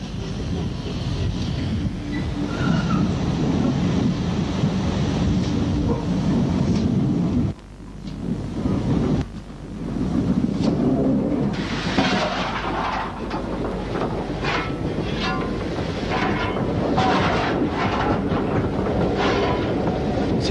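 A GWR Pannier Tank steam locomotive, number 4611, hauls a train out of Brecon with a heavy, continuous rumble of wheels and rolling stock. A brief dip comes partway through before the loud, sustained rumble resumes.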